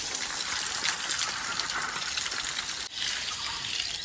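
A hose sprays water onto the side of a house wall, a steady close gushing splatter that runs continuously with only a momentary dip near the end.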